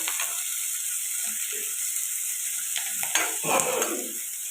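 Chopped onions and green chillies sizzle steadily in hot oil in a pan for chicken curry, with scraping stirs and louder bursts of frying near the end, close and without talk.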